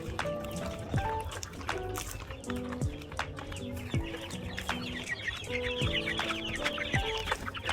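Chicks on a farm clucking and peeping as they are watered, with a busy, overlapping chorus of small calls throughout.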